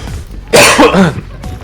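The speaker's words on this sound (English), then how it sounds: "apologies for all the coughing" A person coughs loudly and harshly a few times in a short burst, close up, with a quieter throat-clearing sound afterward, in a dusty house.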